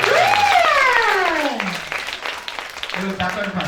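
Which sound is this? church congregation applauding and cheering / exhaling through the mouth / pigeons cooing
church congregation applauding and cheering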